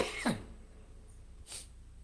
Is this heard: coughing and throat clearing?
yes